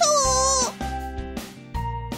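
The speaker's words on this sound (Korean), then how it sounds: "귀여운 고양이네" A cat meows in a long, wavering cry, followed by shorter chirpy mews over a soft musical backing in a children's song.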